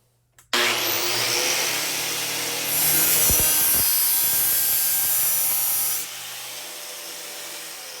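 Bench grinder switched on and run against a lawn mower blade, a steady loud motor whine with a bright, sustained grinding hiss from about 2.7 to 6 seconds, then the motor keeps spinning alone.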